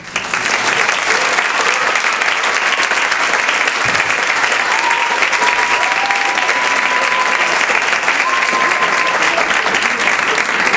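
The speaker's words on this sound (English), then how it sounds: "Did we get to applaud the band?" A theater audience applauds the band with steady, dense clapping that fills the whole stretch without letup, a few faint voices rising through the crowd noise.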